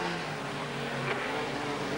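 Race cars, a Toyota among them, run toward a hairpin at the 1985 Shellsport meeting at Wigram, a steady, distant engine drone with broad noise and no clear passes or revving peaks.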